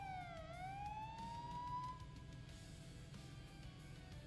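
Police sirens from a GTA roleplay game sweep in a wailing tone with layered harmonics, fairly steady and moderately loud over an engine rumble, fading slightly toward the end.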